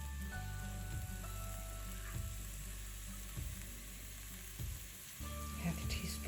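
Shallots with garlic cooking softly in olive oil in a pan, a steady low sizzle running throughout with occasional stirring scrapes, close and moderately quiet.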